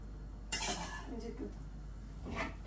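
A metal lid set down on a cooking pot of prawn and banana-flower curry, one clear clank followed by faint scraping and a second soft knock, heard close against a quiet kitchen hum.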